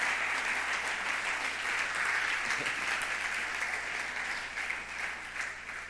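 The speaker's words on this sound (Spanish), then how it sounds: "Un aplauso para Dani." A church congregation applauds during a sermon, a full, sustained wash of many hands clapping. The sound holds at an even level throughout, with a low steady hum underneath.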